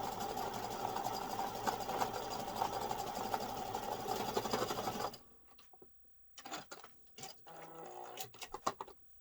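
A sewing machine that is having problems whirs steadily for about five seconds, then stops, followed by scattered clicks and handling noises.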